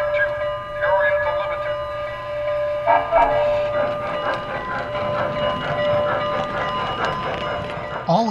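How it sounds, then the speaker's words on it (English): Great Northern S2 model locomotive at the head of an Oriental Limited train on a model railroad layout, powering up with sustained steam whistle tones and mechanical clatter, fairly loud and close, with rhythmic clicking as it departs. "a Great Northern S2 powers up at the front of the Oriental Limited and prepares for its journey across the layout"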